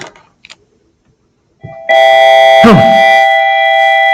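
A school bell starts suddenly and rings loudly with a sustained metallic tone, following a few faint knocks in near silence.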